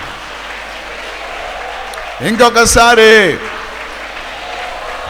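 A church congregation claps in a steady, dense wash of applause, and a voice speaks briefly over it partway through.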